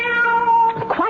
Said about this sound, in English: Quiet out there, Cat.